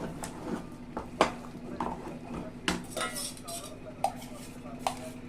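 Ragi and jaggery mixture stirred in a pan, with repeated close spoon scrapes and metallic clinks against the pan in an uneven rhythm, quiet and without talk.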